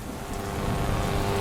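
Steady rain pours on a dark night in a village, a thick, unbroken wash of drops with a low rumbling undertone, moderately loud and constant across the brief moment, with no voices.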